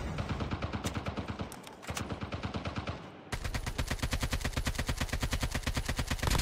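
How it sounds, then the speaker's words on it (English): Rapid automatic gunfire in the Call of Duty Mobile battle royale mode, a steady rattling burst of evenly spaced shots that pauses briefly and then resumes harder, fairly quiet overall. "Oh, shots!"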